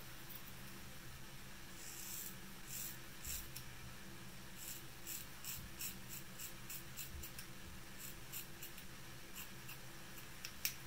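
Scissors cut a hair fringe close up with soft, crisp snips, some single and some in quick clusters, over quiet room noise.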